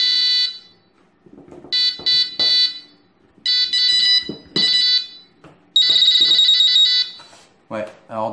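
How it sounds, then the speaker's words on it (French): A new smoke detector sounds its alarm tone in short, loud, piercing electronic beeps repeated in bursts, between which a person speaks nearby. "on entend le son du détecteur, la même tonalité, plus l'aigu en fait"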